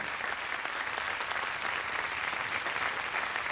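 A television studio audience claps steadily for jazz pianist Michel Petrucciani, a dense, even round of applause with no voices standing out.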